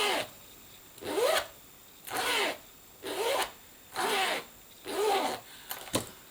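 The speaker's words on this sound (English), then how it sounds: "The zip is the most beautiful quality ever." A zipper on a planner case is pulled open and shut five times in an even rhythm, each pass a close, crisp rasping zip of about a second, separated by brief quiet gaps.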